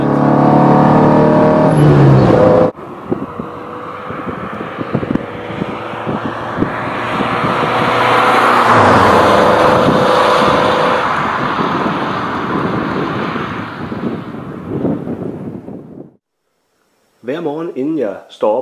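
A car engine accelerating as the vehicle drives faster, a loud sustained roar with broadband road and wind noise that builds and swells before fading out, with brief talk at the very end.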